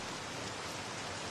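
Steady rain falling, a dense even hiss of drops on surfaces throughout, alone with no voices, on a rainy night outside a house on a residential avenue.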